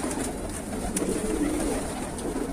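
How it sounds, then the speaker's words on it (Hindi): Green female pigeons of a prized breed coo softly and steadily against a busy background hum, with a few faint calls scattered through a short stretch and no talk over them. "बहुत ही प्यारे बजूद के कबूतर दोस्तों"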